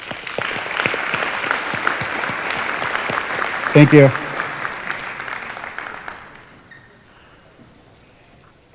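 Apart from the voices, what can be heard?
applause at a building grand opening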